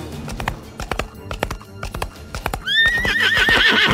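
A restless horse whinnies loudly in a dark, narrow forest, its rising wavering neigh following a steady run of close clip-clopping hoofbeats.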